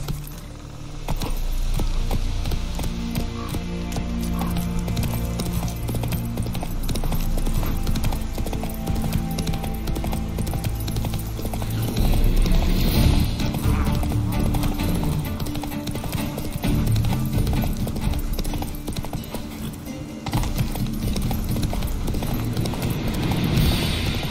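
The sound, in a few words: horse galloping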